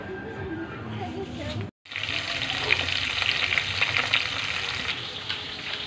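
Broiler chicken frying in a pan gives a steady close sizzle and crackle. It keeps going after a brief gap near the start, and low background voices and clatter sit under it.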